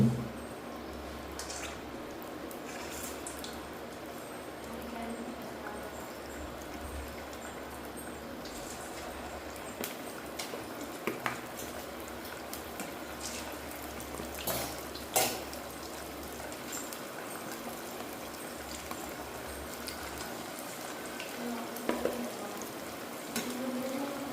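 Chicken lollipops frying in hot oil, a steady low bubbling sizzle with scattered crackles and pops that carries on without a break at moderate level.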